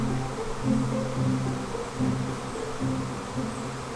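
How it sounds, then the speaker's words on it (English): A honey bee hive swarming outdoors, a dense, steady buzzing hum of many bees with gentle swells in loudness, close and continuous with no talking. "the army hive decided that it was going to swarm today, so it's swarming"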